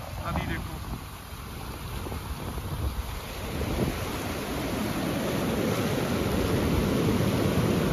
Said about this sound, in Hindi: इधर नदी चल रही है